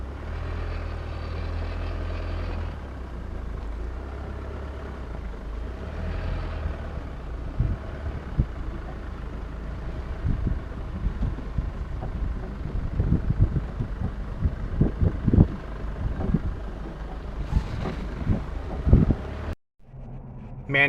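A Geo Tracker with manual transmission cruises along a highway, a steady low engine and road drone mixed with wind buffeting, rising in intensity toward the end before a brief cut.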